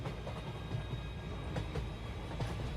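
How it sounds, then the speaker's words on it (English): A train starts to move in the video game The Murder of Sonic the Hedgehog, a low steady rumble with faint rhythmic clacks recurring throughout. "The train started moving."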